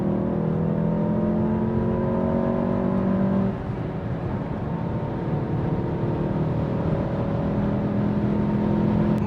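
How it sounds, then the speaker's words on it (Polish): A VW Golf GTI 7.5 accelerates hard after a downshift to third, engine note climbing steadily toward 5000 rpm, loud and close throughout, with a brief dip in tone partway through as the revs build again. "Zredukujmy sobie do czwórki, zobaczmy, do trójki, 5000 obrotów but."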